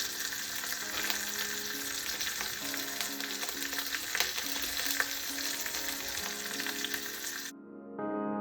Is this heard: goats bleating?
no